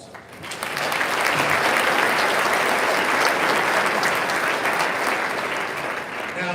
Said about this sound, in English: Now I'm going to give another round of applause.